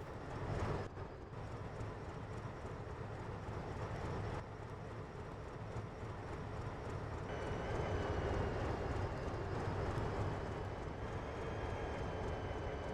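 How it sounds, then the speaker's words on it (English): A train in Train Sim World 22 rolls along track on an Argentine route. It makes a steady low rumble and drone that swells slightly partway through, fairly quiet and with no talking. "Let's just move this train"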